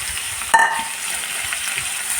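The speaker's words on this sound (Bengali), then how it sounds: "আলু বেগুন দিয়ে আমি একটু কষিয়ে নেব।" Potatoes and eggplant sizzle in hot spiced oil, a steady close frying hiss with a short scraping clatter of stirring early on.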